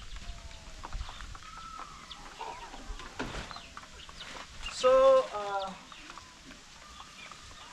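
Chickens cluck softly around a village home farm in Kisii, Kenya, with scattered faint clucks and a brief louder burst of calls midway, amid quiet outdoor background and a brief spoken word.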